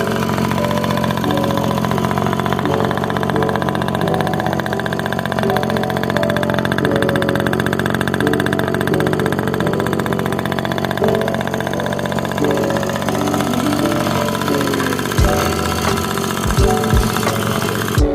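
An old motorcycle engine, rebuilt after restoration, runs steadily and loudly throughout, with a low rumbling idle and a few sharper knocks near the end.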